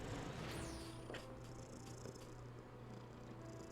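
A black male cat purrs softly and steadily close by, a low continuous rumble with faint room noise and no talking.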